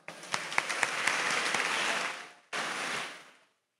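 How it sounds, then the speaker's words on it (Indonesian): A crowd at a Pondok Modern Tasaka cabinet accountability report applauds the finance department, a steady wash of clapping with a few louder near claps that fades, cuts off, then resumes briefly before dying away. "Tepuk tangan untuk Departemen Keuangan Pondok Modern Tasaka."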